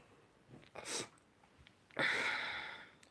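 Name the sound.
sneeze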